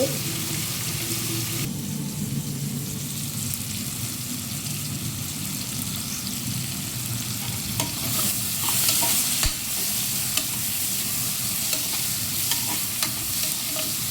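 Onions and tomatoes sautéing for a meat curry sizzle steadily in a pan while being stirred, a continuous close frying hiss with intermittent scraping and clinks of the spoon.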